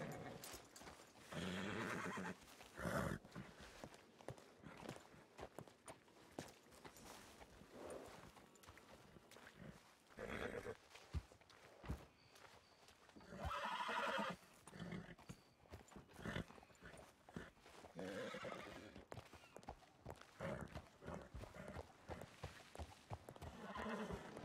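A horse in a ranch stable whinnies loudly several times while hooves clop and shuffle on the ground throughout, heard close up.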